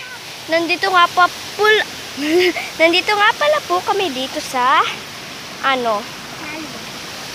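Steady rushing of river water flows in the background while a person talks over it, close by.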